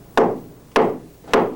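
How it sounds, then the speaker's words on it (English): A small hammer taps three times on wood at an even, unhurried pace, each strike a sharp, close knock that fades quickly. "This is a small hammer."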